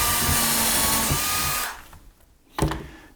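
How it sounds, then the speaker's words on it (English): Cordless power drill driving a screw into wood during model railroad deck layout construction, a loud whirring run that cuts off, then a short sharp knock after a brief pause. "So we'll go ahead and put one screw in here to start."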